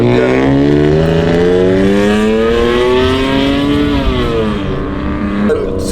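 A Nissan R32 Skyline with a full exhaust revs hard and close, its loud engine note climbing before it bounces off the rev limiter in a rapid stuttering drone.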